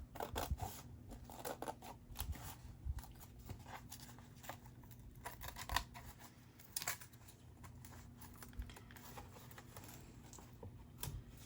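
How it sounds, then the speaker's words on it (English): Scissors snipping through an old Little Golden Book, quiet, close irregular cuts and crunches of cardboard and paper, with light handling noises and no talking. "Now I think I could take my scissors and work the rest of the way. So try to cut these."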